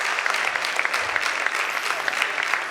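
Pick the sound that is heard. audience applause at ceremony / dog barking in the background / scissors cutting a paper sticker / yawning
audience applause at ceremony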